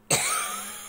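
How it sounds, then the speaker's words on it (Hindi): A woman gives a single sharp, close cough that trails off quickly into a quiet room. "अभी मैं ज़्यादा नहीं बोलना चाह रही हूँ क्योंकि खांसी आ रही है मुझे"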